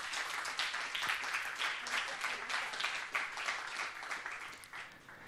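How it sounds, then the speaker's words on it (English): Audience applause for two panelists at a talk on building individual capabilities for the networked era, a steady wash of many hands clapping that holds evenly for several seconds with no speech over it. "please give a round of applause for the two panelists on my side"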